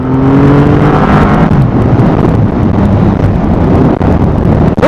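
A 2020 Triumph Rocket 3 R motorcycle rides along a big open road, its engine a loud, steady, close drone mixed with heavy wind rush over the whole stretch.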